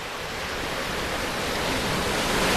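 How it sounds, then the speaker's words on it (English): Rough, confused ocean waves churn at the mouth of the inlet into Nauset Marsh, a steady, loud broadband wash of surf with no break and no voices. "Very confused waves at the mouth of this inlet into Nauset Marsh"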